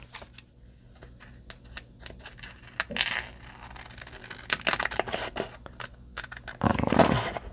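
Scissors cut through paper for a romance-themed journal in a string of close, crisp snips and rustles, irregular in pace, with a couple of louder crunching cuts and no talk.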